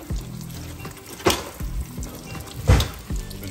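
Crappie fillets shallow-fry in a pan, a close, steady sizzle broken by several louder clunks and bursts of spattering.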